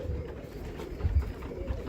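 Birmingham Roller pigeons coo inside a loft, breeding cocks giving low soft rolling coos repeatedly against a steady hum, close but fairly quiet.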